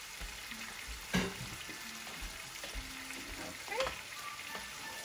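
Chicken biryani sizzles and fries in a pot on high heat while a utensil stirs it, with a couple of sharp scraping knocks over a low, steady crackle.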